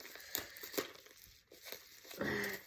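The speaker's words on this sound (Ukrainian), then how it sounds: "Ого, як важко рветься папірчата пленка." Paper packaging film being torn open from a parcel, with irregular crinkling and ripping bursts in short uneven pulses, close and fairly quiet, ending in a sustained rustle.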